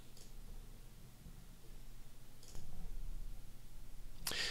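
A computer mouse clicks several times while installing a WordPress theme. The clicks are sharp and isolated, faint at first with one louder click near the end, over a low hum. No one speaks.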